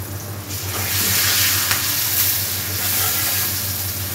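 Vegetable noodles with egg fry in a hot pan, giving a close, steady sizzle with soft stirring scrapes and a constant low hiss, without any talking.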